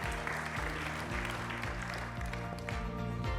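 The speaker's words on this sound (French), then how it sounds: "Merci d'applaudir Patrick de Cambourg." Steady applause from a conference audience welcoming a panelist, a dense continuous patter of clapping over a sustained low hum from the room's sound system.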